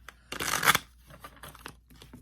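A holographic tarot card deck being shuffled by hand, a loud riffling burst followed by softer intermittent card flicks and rustles, close to the microphone with no talk.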